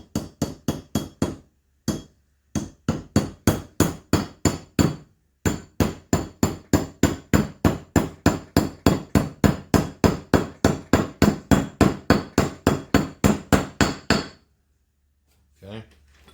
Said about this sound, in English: We'll give it a little start with a brass hammer.